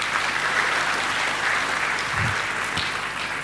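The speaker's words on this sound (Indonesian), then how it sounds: "Tepuk tangan untuk kita semua." Applause from a large audience at a Universitas Padjadjaran graduation ceremony in 2022, a continuous, even wash of clapping heard from some distance, with a couple of low thumps near the end.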